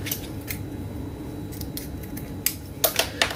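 Scissors snip through excess decorative trim on a handmade craft gift, a few sharp close cuts near the end over a quiet room background.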